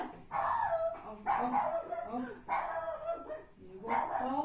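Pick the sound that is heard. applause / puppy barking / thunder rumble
puppy barking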